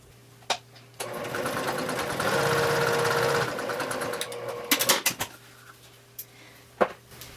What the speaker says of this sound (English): take this over to the sewing machine and sew a diagonal line from this upper left corner